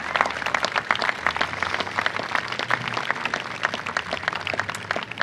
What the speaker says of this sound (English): I'd like to hear some applause for 170.